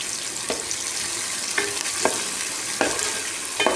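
Onions, curry leaves and a dried red chilli sizzle steadily in a hot pan for poori potato masala, with a few sharp scraping stirs of a spatula cutting through the continuous frying hiss.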